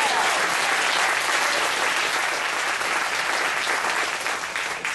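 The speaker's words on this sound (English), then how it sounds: "Before I start, can we please just give a round of applause for Dom, our media guy who's back there?" A full audience at a Sunday Assembly gathering in San Jose, California breaks into a sustained round of applause, dense and loud throughout, easing off slightly at the end, with no talking over it.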